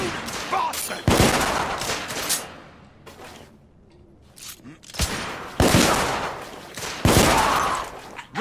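Gunfire in The Order: 1886, a video game: several loud bursts of shots in quick succession with quieter gaps between them, the bursts sharp and echoing, and faint voices in between.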